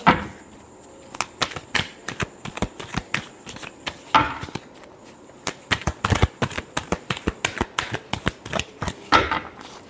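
Tarot cards are shuffled close by, giving a long series of sharp, rapid snapping and slapping clicks in uneven bursts that speed up toward the end, with no one talking.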